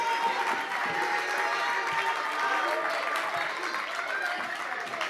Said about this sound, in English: can we get one more round of applause for Mr. Hill's closing remarks